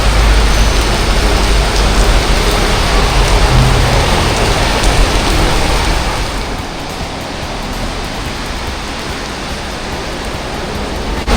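Steady, dense hiss of heavy rain, loud and continuous, easing slightly partway through, with no voices.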